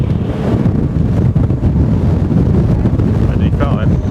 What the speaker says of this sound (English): So windy enough for you, Mel?